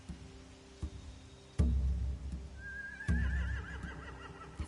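Horses neigh and whinny in The Walking Dead video game near a boat and hay, with a loud, long whinny over thumping impacts and low rumbling, and no speech.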